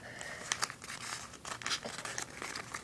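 Origami paper flaps being folded for an origami cube: close, crisp crinkling and rustling in short bursts, with sharp paper creases and no talking.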